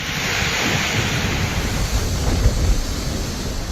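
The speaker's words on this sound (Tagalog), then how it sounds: "Malalakas na hangin at ulan ang humampas sa Batanes matapos itong isailalim sa Signal Number 5 kahapon habang papalapit ang bagyong Leon" Strong typhoon winds and rain from Typhoon Leon battering Batanes, a steady roaring broadband rush of wind and surf-like noise with low gusty rumbles, loud and continuous with no voices.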